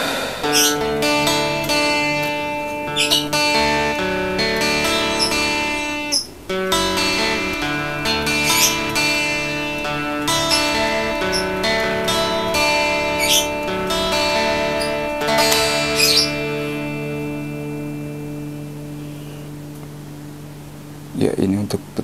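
An electric guitar played through a Boss DS-1 distortion pedal, with the drive set low at seven o'clock, rings out in sustained picked notes and chords, distorted and up close, with brief pauses between phrases.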